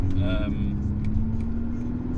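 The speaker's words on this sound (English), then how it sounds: "just flipping through the gears, I mean, that was just super smooth" A Mercedes A45 AMG engine runs steadily from inside the cabin as it shifts through the gears, a sustained low drone with a brief higher tone early on.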